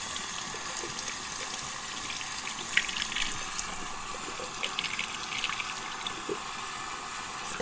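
A bathroom tap runs continuously as water is warmed before a wet shave, a steady hiss of flowing water with occasional faint clinks, close and uninterrupted.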